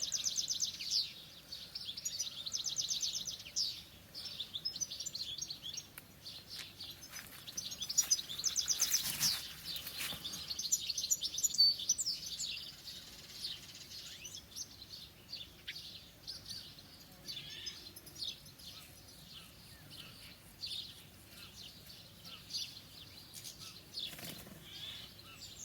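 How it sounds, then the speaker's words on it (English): Birds chirp and sing at sunrise, a soft, steady chorus of high twittering calls from a little distance, with no talking. "I'm being very quiet and letting you listen to the birds"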